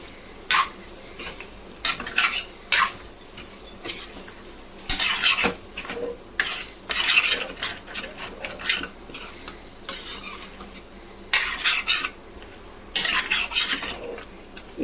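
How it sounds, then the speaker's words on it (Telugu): A spoon stirs spicy chicken fry in a metal pan, making bursts of clinking and scraping separated by short pauses, over a faint sizzle. "ఇట్లనే కలుపుతూ ఉడికించుకోవాలి."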